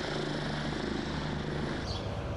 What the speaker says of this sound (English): helicopters winched those stranded on rooftops to safety